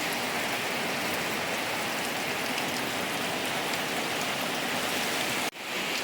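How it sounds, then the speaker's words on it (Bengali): Heavy rain pours down steadily outside a home, a dense, loud, unbroken roar of drops with no voices, cutting off abruptly near the end. "দেখো প্রচুর বৃষ্টি হচ্ছে"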